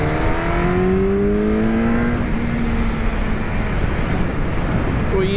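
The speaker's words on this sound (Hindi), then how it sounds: "तो ये आ गया मैं फोर्थ गियर पे, अच्छी चल रही है यार बाइक" An MV Agusta 1090 Brutale RR motorcycle drones in fourth gear, its engine note rising steadily then dropping, heard over strong wind rush close to the rider.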